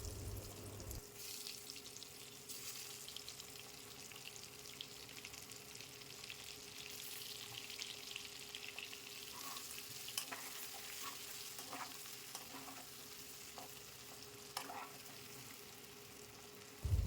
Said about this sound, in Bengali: ডিম ভাজা তুলে রেখে এরপর আগে থেকে ম্যারিনেট করে রাখা আলুগুলো ভেজে নেব।